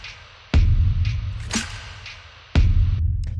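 Processed electronic drum group in a raw, textured track, heavy booming kicks with sharp attacks, a crisp snare hit and gritty filtered noise between them, loud and close with no talk.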